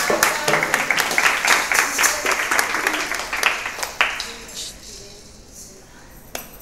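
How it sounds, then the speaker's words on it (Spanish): Scattered clapping from a small group at a hospital-home school workshop, close and uneven, with a few clinks and voices mixed in before it thins out. "Empieza, aplauso."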